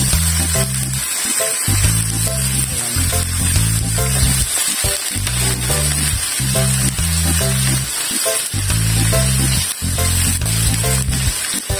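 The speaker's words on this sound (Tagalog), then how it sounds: "papupulahin natin itong ating karne" Pieces of meat browning in hot oil in a pan for dinuguan give a steady, close sizzle and hiss that runs the whole time, with a pulsing musical backing underneath and no speech.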